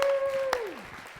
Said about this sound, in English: On your feet, everyone, and give Gerald Rogers a big warm round of applause